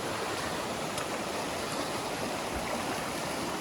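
Fast-flowing stream water rushing loudly and steadily close by, a dense continuous roar with no voices.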